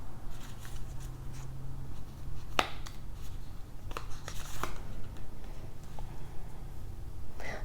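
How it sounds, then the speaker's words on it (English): Tarot cards being shuffled by hand, a soft steady riffling and rustling with a few sharper snaps and taps, close and fairly quiet, with no voices. "sometimes I get quiet when I shuffle"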